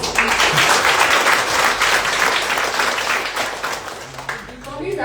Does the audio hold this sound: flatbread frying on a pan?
no